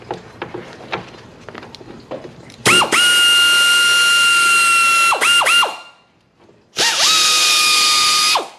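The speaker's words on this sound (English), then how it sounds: "13 millimeters on the air ratchet. So let's go ahead and get these bolts loose." Pneumatic air ratchet loosening 13 mm bolts on a 2005 Dodge Ram 1500 during a water pump replacement, two loud high whining bursts of a few seconds each after light clinks of handling.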